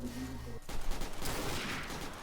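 Burst of gunfire in the online game Trouble in Terrorist Town, a sharp shot followed by dense rapid firing that fills the clip loudly, with no talk over it.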